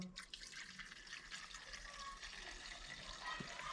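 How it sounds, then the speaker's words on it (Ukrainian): Petrol-oil mix pours steadily from a hose into the fuel tank of a Muravei motor scooter under repair, a continuous liquid trickle and splash running close and moderately loud throughout. "Лиємо бензин з маслом. Заливаємо бензинку."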